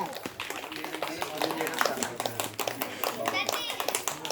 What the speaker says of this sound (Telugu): గట్టిగా చప్పట్లతో కొట్టండి, చప్పట్లు గట్టిగా కొట్టాలి